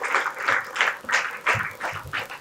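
An audience at a stage event applauds a guest invited up for a panel discussion, a steady, moderately close wave of clapping in pulsing surges.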